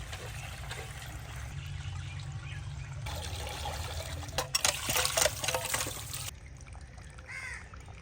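Water pours and trickles into a cooking pot of potatoes, peas and carrots for a few seconds, close up, while a crow caws nearby.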